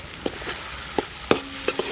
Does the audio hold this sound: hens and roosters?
no